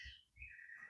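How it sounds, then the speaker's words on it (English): A cuckoo clock brought home from Germany goes off indoors, giving two soft, quick cuckoo notes at a modest distance. "I don't know if you can hear that, but my cuckoo clock is going off."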